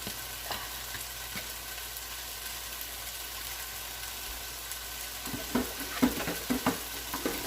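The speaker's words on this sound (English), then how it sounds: "I'm going to go ahead and fry that up." Chicken and noodle fried rice frying in a pan, a steady soft sizzle that stays low for most of the stretch, then a few sharper stirring scrapes and clacks come through near the end.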